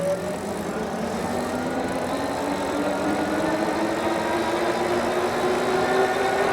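Wing Freedom Fatty 2 fat-tire electric bike motor under throttle-only acceleration, a steady whine rising gradually in pitch over continuous wind and road noise, close and fairly loud.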